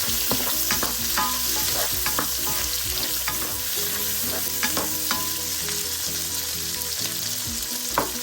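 Garlic, ginger and a whole medium tomato frying in a pan, with steady sizzling throughout and frequent scrapes and clinks of a stirring utensil against the pan.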